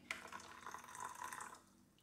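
Hot water pours from a kettle or tap into a container for a homemade cleaning mix of baking soda and vinegar, a faint, steady trickling splash that tapers off after about a second and a half.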